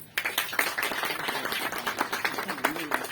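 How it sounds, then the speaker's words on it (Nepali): Church congregation breaking into rhythmic clapping, a dense pulse of many hands heard at moderate distance, with voices talking over it. "ताली बजाइदिनुहोस् है।"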